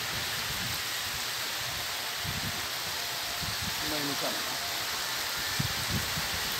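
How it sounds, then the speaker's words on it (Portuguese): Steady, dense hiss of rain falling all around at a fishing pond, continuous and even, with faint indistinct voices now and then underneath. "Agora começou a cair chuva."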